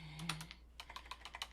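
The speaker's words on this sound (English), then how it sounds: "We get to hear my typing tonight with my big click, with my clackety clack nails" Close, quick keystrokes on a computer keyboard typed with long nails, a short burst of sharp clacks in an uneven rhythm, faint and with no voice.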